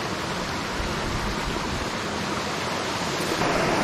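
Bara Bakhara waterfall near Bargarh heard from below, a dense continuous roar of falling water, steady and loud throughout with no voices.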